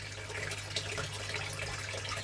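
Water running steadily over pay dirt in a gold sluice, a continuous close rushing and trickling wash with a low steady hum beneath, no talking.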